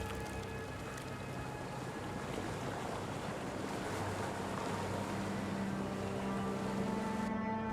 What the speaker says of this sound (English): That's a really cool boat, though.